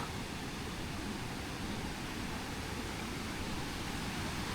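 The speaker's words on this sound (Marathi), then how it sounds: "जबरदस्त पाण्याचा झोळ आहे" A powerful Konkan monsoon waterfall near Fauji Ambavde, Mahad, pours as a continuous broadband roar of rushing water, even and unbroken from start to finish, moderately loud with no voices over it.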